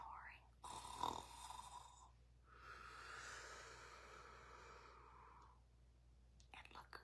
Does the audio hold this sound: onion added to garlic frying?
no